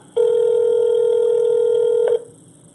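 Ringback tone of an outgoing phone call to a hair salon: one steady, loud electronic ring lasting about two seconds before it cuts off, with no voices.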